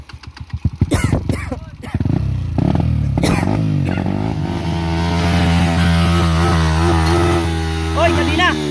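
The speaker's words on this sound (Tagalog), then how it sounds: "Full throttle mo." A dirt bike on Mt. Paldingan revs in sharp bursts, then holds a loud, sustained full-throttle roar with shifting pitch, very close, while riders shout over it.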